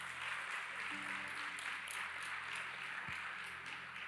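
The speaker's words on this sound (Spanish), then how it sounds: "Aplaude, hermano, ese es el Señor." A church congregation applauds at a sermon, giving a steady wash of clapping that sounds somewhat distant and fairly faint.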